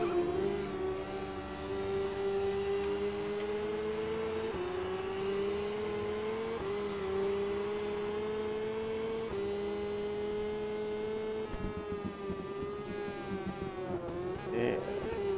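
Racing motorcycle engine in SBK Generations holds a steady, loud high-pitched whine, revving up and shifting through gears in repeated climbs, with no talking over it.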